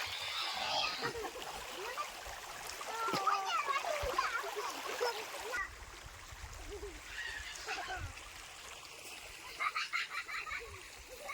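Water running in a stream with children splashing and playing in it outdoors on a hot day, steady splashes and trickling close by, with faint children's voices mixed in.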